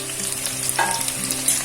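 Curry leaves, ginger and garlic hit hot oil for a Kerala-style fish curry, giving a loud, dense crackling sizzle that holds steady for a moment at close range, with no voices.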